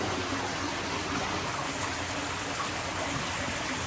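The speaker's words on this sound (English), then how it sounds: "It's where Trout stream flows through and then drops down over Rainbow Falls." Underground stream flowing through a limestone cave and passing beneath a bridge, heard as a steady, close, continuous rush of water with no talking.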